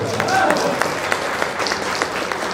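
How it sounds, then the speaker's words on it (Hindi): Loud, dense clapping from an audience at a Hindu religious stage gathering honouring a revered guru, sustained throughout with crowd noise and some voices mixed in. "एक बार जोरदार ताली"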